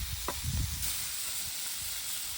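Spicy chicken fry cooks in a pan, a steady close sizzle with a few soft knocks and stirring sounds near the start, then an even hiss with no voices.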